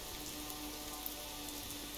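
Steady rain patters at Oslo Gardermoen airport in the X-Plane 11 flight simulator with a Boeing 737-800, a faint even hiss with a low tonal hum beneath and no talk.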